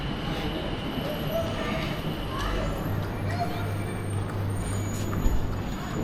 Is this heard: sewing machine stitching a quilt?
no